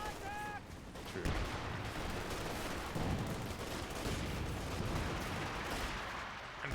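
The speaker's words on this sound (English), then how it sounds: "MG42 gets some heavy shelling there, has to retreat." Heavy artillery shelling in the real-time strategy game Company of Heroes 2, a continuous rumbling barrage of blasts and gunfire throughout, fairly loud with a busy battle backdrop.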